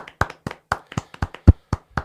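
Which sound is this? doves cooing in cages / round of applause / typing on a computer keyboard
round of applause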